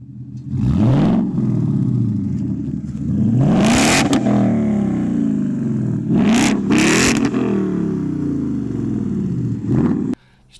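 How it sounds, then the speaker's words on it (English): A 2018 Ford Mustang GT with a new aftermarket exhaust revs repeatedly, loud and close, with several sharp throttle blips rising and falling over a steady deep rumble before cutting off abruptly. "After the tint, you know what everyone does on their Mustang? New exhaust."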